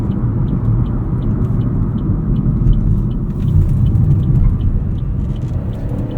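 Steady low road rumble and engine drone inside a 2025 Chevrolet Trax 2RS with a 137-horsepower engine cruising at highway speed, constant and fairly loud with a faint ticking above.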